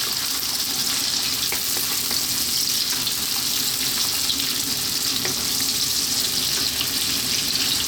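Onion frying in a pan, giving a steady, dense sizzle that stays loud and even all the way through, with no voices.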